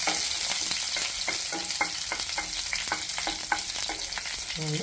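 Onion, curry leaves and fenugreek seeds fry as a tempering in hot oil, producing a loud, continuous close sizzle broken by repeated spatula scrapes and stirs.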